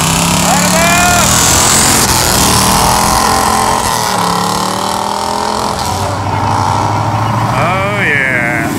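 A 1969 Camaro with a 396 375 hp solid-lifter V8 and chambered exhaust revs loudly amid a busy car-show crowd, engine roar rising and falling under people talking nearby.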